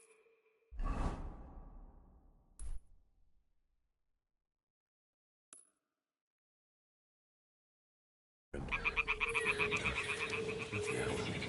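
Toads croak in the Kingdom Come: Deliverance video game: a few isolated croaks and soft swishes separated by silence, then a loud, rapid, pulsing chorus of croaking that runs to the end.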